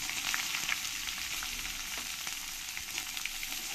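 Chopped onion fries in a pan with bay leaf, cumin and chili, giving a continuous bright sizzle with small crackles, close and steady, no voices.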